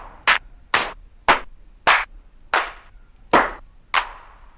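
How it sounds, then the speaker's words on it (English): An 808-style clap sample plays on a Deluge drum machine, seven sharp, bright hand-clap hits in a steady rhythm about two-thirds of a second apart, each with a short noisy tail, with no voices. "Yeah, clap."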